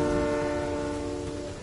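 A train horn in the video game Fortnite sounds as a loud, steady multi-tone blast over rumbling rail noise, holding through the whole moment before easing slightly.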